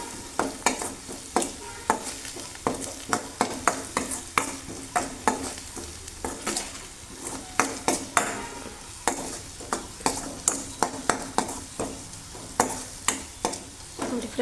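Chilli powder and salt fry in a hot pan while a spatula scrapes and stirs in a steady, repeated rhythm of sharp clicks over a constant close sizzle, with no voices.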